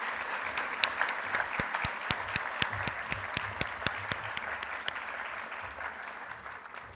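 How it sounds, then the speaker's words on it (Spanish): Audience applause greeting a speaker at an academic workshop, a steady crowd patter with a few sharp, close individual claps standing out in a loose rhythm, gradually fading toward the end. "démosle la más cordial bienvenida con un muy fuerte aplauso"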